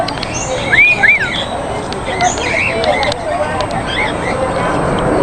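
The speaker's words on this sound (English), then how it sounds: "Look at the cockatiel." Cockatiels at a zoo give a few short, rising chirps and squawks over steady background noise, fairly close, with no talk.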